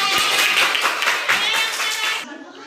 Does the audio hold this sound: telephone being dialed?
no